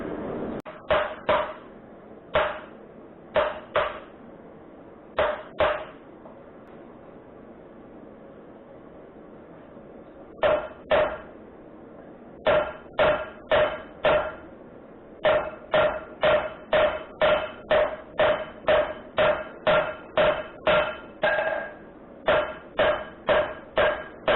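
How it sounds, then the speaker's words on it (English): A rawhide mallet strikes metal being shaped into a fishing rod hook, with sharp, close knocks coming in quick bursts and runs separated by short pauses. "So what I have is a rawhide mallet."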